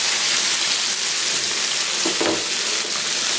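Red snapper frying in oil, a steady close hiss of sizzling that fills the whole stretch without pause, with a few faint bubbling pops near the end and no voices.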